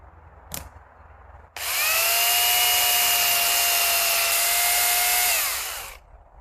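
An electric chainsaw rips through wood, starting abruptly after a brief click and roaring loud and close at a steady high pitch for about four seconds before winding down.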